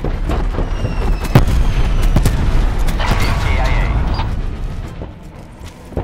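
An airstrike in Call of Duty Black Ops drops bombs, giving a dense rumbling stretch of explosions and crackling blasts that fades toward the end, with voices talking over it.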